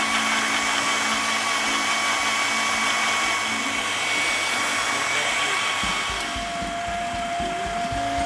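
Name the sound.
blender grinding shallots, garlic, coriander and ginger with water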